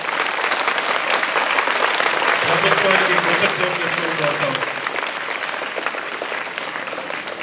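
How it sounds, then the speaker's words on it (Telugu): A large crowd at a public gathering claps loudly and continuously. Someone speaks over the sustained applause. "గట్టిగా చప్పట్లు కొట్టి అందరూ"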